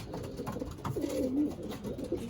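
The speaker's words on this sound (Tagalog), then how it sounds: "So yun mga kalapatids, kakauwi ko lang." Pigeons coo softly inside a loft, a low throaty burbling call repeated over a couple of seconds, close and moderately quiet.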